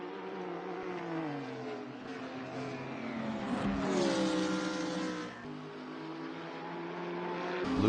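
A Lamborghini race car lapping Monza in a racing video game, its engine droning at high revs with shifting pitch as it accelerates and eases through the curves, steady and loud throughout, no voices.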